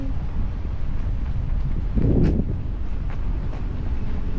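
Wind rushes steadily past the microphone high above the sea while parasailing off Boracay, a constant broadband roar with a brief louder gust midway and faint flutters.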